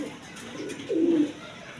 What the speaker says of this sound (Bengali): রেড কালার গররা কবুতর